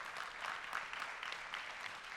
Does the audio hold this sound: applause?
yes